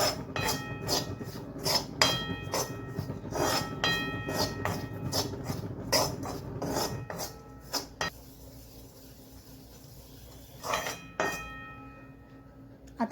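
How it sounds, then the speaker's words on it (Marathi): A spoon repeatedly clinks and scrapes against a pan as ground spices with garam masala dry-roast for a kachori filling, giving a steady run of sharp metallic taps that thins out, with a last few clinks near the end. "आता छान मिक्स करून घेऊ. मसाले हलकेसे भाजून घेऊ."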